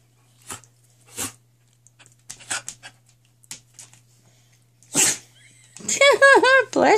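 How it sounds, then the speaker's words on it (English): A dog gives several sharp, close sneezes spaced apart by short pauses, with quieter snuffles in between, before a person starts talking over the final seconds. "quit touching my nose and making me sneeze"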